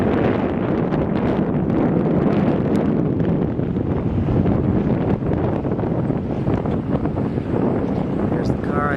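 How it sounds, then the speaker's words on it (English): Strong wind buffets the microphone on the summit of Pico de Orizaba volcano in Mexico, a loud, gusty rumble that roars continuously throughout. "And of course it's windy."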